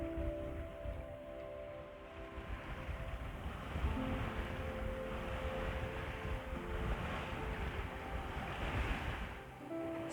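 Sea swells break against rocky shore off Shetland near Unst, heard from a sailing boat as a steady, fairly close wash of surf with wind noise across the microphone.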